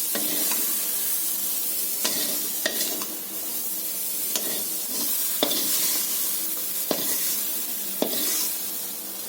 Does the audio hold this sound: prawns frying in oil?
yes